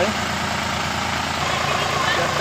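A tractor engine idles steadily nearby on a farm, a constant low rumbling chug with a rough, vibrating texture.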